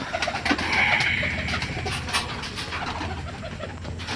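Pigeon chicks from long-flying parent birds give soft, intermittent coos and throaty calls at close range, amid gentle background rustle, with no voices.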